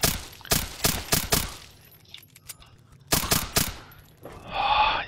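Gunfire in the video game Fallout 3, with two quick bursts of rapid loud shots separated by a pause of faint clatter, then a short hissing noise at the end.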